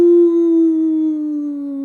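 A sustained, tonal howl sound effect made for the prototype of the multiplayer game "Not Monsters". It holds one loud, steady pitch that sags slightly across nearly two seconds, with no talk over it.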